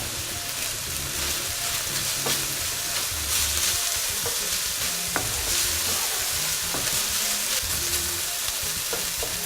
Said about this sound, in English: Just continue frying it over medium heat